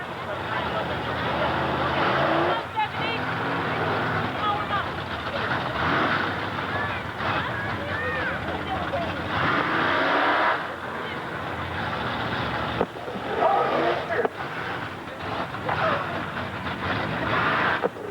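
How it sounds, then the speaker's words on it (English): Drag race cars at an early-1980s raceway spin their tires in a burnout before the start, a loud sustained roar and screech filling the clip, with brief surges and dips in level. "They're going to spin the tires, get them good and hot and clean before they approach the starting line."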